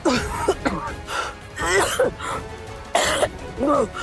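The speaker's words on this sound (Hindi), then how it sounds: "उन्हें इतनी खांसी क्यों हो रही थी?" A person coughs and clears their throat in short, repeated bursts during a tense drama scene, mixed with strained vocal sounds.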